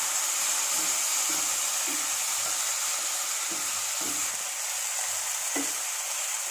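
Tomato is stirred into golden fried onion in a pan, giving a constant hissing sizzle with soft, regular scraping strokes of stirring through it, close by and without speech.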